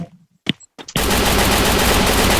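Gunfire in the mobile battle royale game Free Fire: a couple of sharp single shots give way to a loud, continuous rapid-fire burst that fills the rest of the moment up close.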